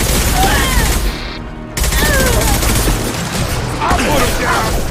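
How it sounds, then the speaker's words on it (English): An impact gun firing in Mass Effect 2 produces dense, loud bursts of blasts and gunfire that fill the scene, with a brief dropout and battle voices calling out over the barrage. "Firing an impact gun!"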